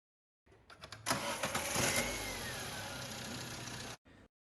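A small 1.3-liter, 65-kilowatt domestic car engine cranks and catches after a few clicks, then runs at a steady idle for a couple of seconds before cutting off, close and moderately loud.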